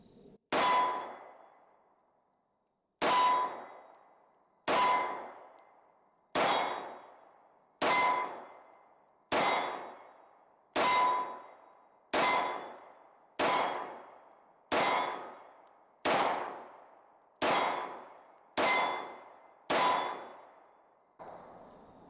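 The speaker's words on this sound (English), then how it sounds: "let's check out the accuracy and recoil on this thing" A Smith & Wesson SD40 2.0 pistol in .40 S&W fired at an outdoor range, about fourteen sharp, loud shots at a fairly steady pace, each with a short decaying echo.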